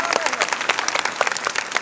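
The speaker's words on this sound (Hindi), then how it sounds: "अंकल जी का स्वागत करें एक बार जोरदार तालियां।" Students welcoming a guardian at the CIMAGE Inspiro 2021 event at Gyan Bhawan, Patna clap hard and fast, a thick burst of loud applause with some voices mixed in.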